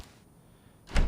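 A door in the DayZ game bangs open with one short, loud thud near the end, after a second of quiet ambience.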